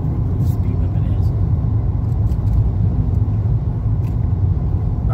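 Car cruising on a quiet road in Oxford and Wildwood, Florida, a continuous close low engine and tyre rumble, steady throughout with people talking inside over it.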